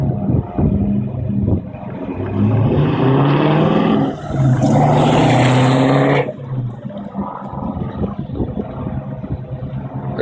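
Nissan R32 fitted with a mid-mounted LT1 V8 on a preliminary break-in tune, a loud close engine note that climbs in a rev around the middle, then settles back to a rough idle, with no speech.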